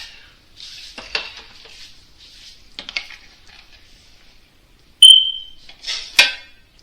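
A plate comes out of a home oven while a brisket dinner is prepared: faint scrapes and light clinks, then a short high electronic beep and a final louder clatter of dishware, with no talking.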